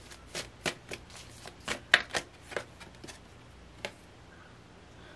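Tarot cards being shuffled during a reading: a string of soft, quick riffling flicks and taps at an uneven rhythm, close and fairly quiet, with no talking.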